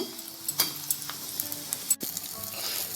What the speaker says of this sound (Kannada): ಈಗ ಇದಕ್ಕೆ ಮೆಣಸಿನ್ಕಾಯಿ, ಕಡಲೆಬೇಳೆ, ಉದ್ದಿನಬೇಳೆ ಹಾಕ್ಕೊಂಡಿದ್ದೇನೆ.